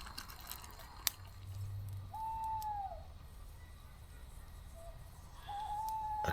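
An owl hoots at night near a wild camping spot beside a river on a kayaking trip, two long tonal hoots a few seconds apart over faint background hiss and a few clicks.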